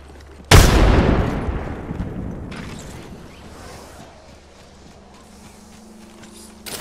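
A grenade blast in a tactical shooter game: one sudden loud explosion that rolls off into a long decaying rumble, with faint mechanical clicks and movement afterward and no talk.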